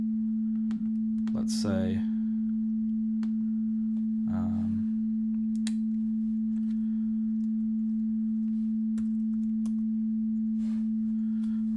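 A steady sine wave test tone plays continuously in audio editing software, a pure constant hum under brief bits of someone speaking.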